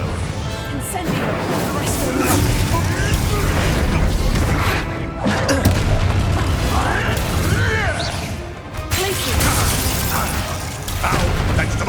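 An Incendio fire spell is cast during a battle in Hogwarts Legacy, with bursts and crashing impacts in a loud, dense mix of combat effects and character voices that runs throughout.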